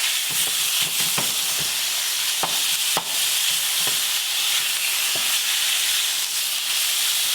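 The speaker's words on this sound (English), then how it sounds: "I put this all the way on high heat. I want to sear it." Axis deer steak sears in hot butter over high heat, a steady loud sizzle and hiss running throughout with scattered sharp pops and crackles.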